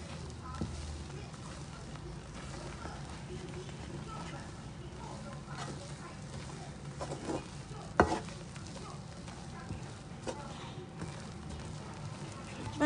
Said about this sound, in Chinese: 离火把它拌匀